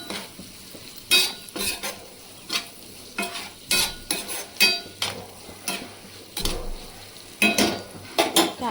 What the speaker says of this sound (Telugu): కారం అనేది కొంచెం వేగాలి